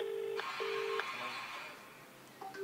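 A telephone dials out with a short run of distinct tone beeps and pauses between them, heard alone at moderate volume.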